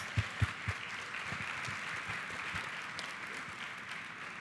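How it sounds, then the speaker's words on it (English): Faint applause from a crowd at a school board meeting, a few sharp claps at first, then a steady spattering of clapping that carries on softly. "Let's give one more round of applause"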